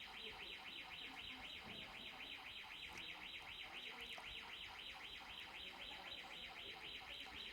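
An electronic alarm wails steadily and loudly in a repeating warbling pattern throughout, with faint background noise beneath it during a church service.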